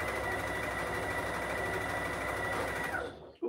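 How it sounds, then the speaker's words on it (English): A sewing machine stitching fabric for a quilted basket project runs steadily at a fast, even whir close by, then stops abruptly near the end with a small clunk; no one speaks. "I'm going to have to quickly stitch this"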